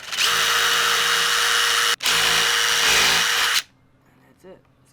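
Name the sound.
power drill pre-drilling a hole in wood door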